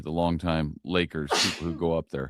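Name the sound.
sneeze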